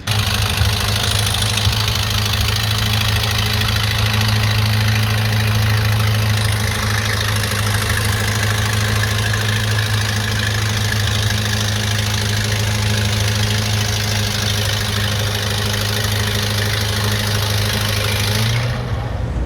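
A Case 700 tractor engine runs steadily and loud at a machinery show, a constant low rumbling drone with a slight knock that holds for about twenty seconds before cutting off abruptly at the end, with no talking.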